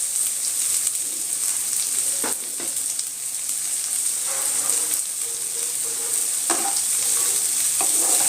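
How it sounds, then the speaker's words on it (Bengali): Torn dried red chillies fry in hot oil in a pan, giving a continuous bright sizzle punctuated by a few scraping stirs of the spatula, close and fairly loud with no talking. "এগুলো সব একসাথে একটু ফ্রাই করে নেব"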